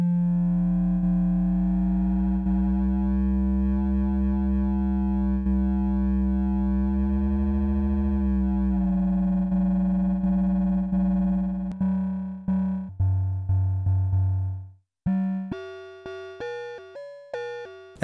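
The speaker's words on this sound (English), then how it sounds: "So we are here in the realm of FM synthesis, which is a distortion richer in harmonics than the ring modulation." A Korg Minilogue XD synthesizer plays FM cross-modulation tones, starting as a sustained buzzy drone rich in harmonics, then breaking into short stepped notes at changing pitches, loud and with no speech.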